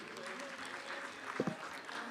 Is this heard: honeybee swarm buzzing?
no